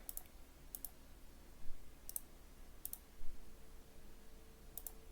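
A computer mouse gives several faint, sharp clicks in pairs, spaced a second or so apart against a quiet room hum.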